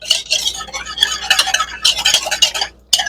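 Cashew chicken mixture being stirred in a bowl, with a spoon scraping and clinking steadily against the sides in quick repeated strokes, close and fairly loud, broken by a short pause near the end.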